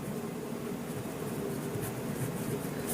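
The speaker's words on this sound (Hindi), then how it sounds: "पहले लिख लेते हैं" A pen scratches across paper while a math exercise on polynomials is written out, making a soft, continuous scribbling sound close by in a quiet room.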